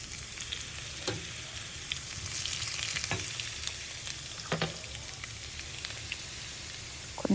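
Chopped garlic and spices frying in hot oil for gongura chutney, a steady bright sizzle with occasional stirring knocks against the pan, and no voices.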